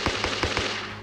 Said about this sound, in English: Another very unique sounding weapon is the Sporter 22